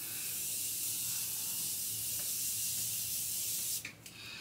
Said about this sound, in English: I'm gonna spray her out a little bit